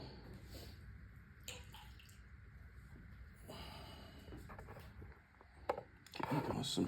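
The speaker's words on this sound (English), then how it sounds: "Let me just tip some water out." Water tipped out of a small snuffer bottle at a gold prospecting hole spills and trickles faintly in a few short bursts, with soft handling noises and a brief louder splash near the end; the recording is quiet and close.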